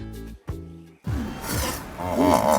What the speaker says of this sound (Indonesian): Tadi itu adalah suara si kuda Nil.